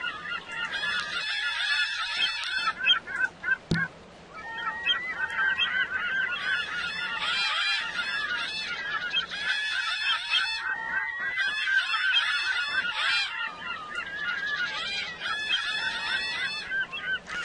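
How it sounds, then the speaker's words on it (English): Dense chorus of seagulls calling and squawking nonstop across a Second Life island, loud and overlapping in bursts throughout, with a brief sharp click partway. "The audio is pretty noisy here with all those seagulls."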